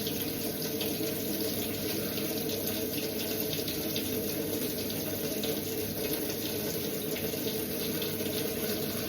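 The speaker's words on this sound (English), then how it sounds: "I'm going to run the cold water off so that I can start washing" Cold water pouring from a kitchen tap into a sink for washing up, a continuous close, steady gush that holds at an even level throughout with nothing else over it.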